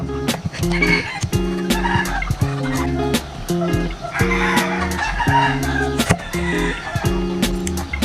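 Chickens cluck and squawk loudly nearby, their repeated calls overlapping in a busy, continuous chorus.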